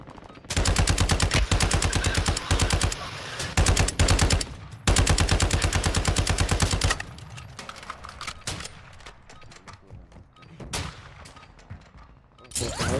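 Rapid automatic fire from a sound gun in a video game rattles out in long loud bursts, then gives way to scattered shots and quieter game effects, with no talking.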